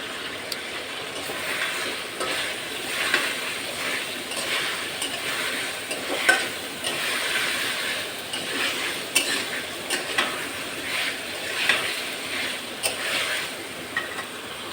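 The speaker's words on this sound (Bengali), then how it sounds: "এই যে দেখেন আমি কষায়ে পেঁপেটারে কষাইছি সুন্দর করে।" Papaya sizzles and is stirred in hot oil with spice paste, a soft continuous frying hiss broken by repeated scraping stirs and small clacks of a spoon against the pan.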